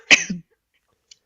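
A single sharp cough, close and fairly loud, followed by a short rough tail and then near silence, with a faint tiny click at the end.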